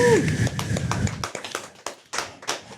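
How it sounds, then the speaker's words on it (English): Uneven clapping from a small group, with quick sharp claps that thin out into scattered claps after a brief low murmur at the start. "so we gonna give my boy Gio a round of applause for pulling this thing Gio. off."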